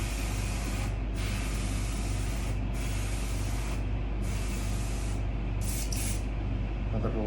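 An airbrush sprays paint in a continuous airy hiss for several seconds, briefly cutting out a few times from clogs, over a low steady hum.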